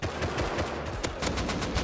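Bursts of rapid gunfire from the survival game Rust, several quick loud shots in close succession with no voices over them.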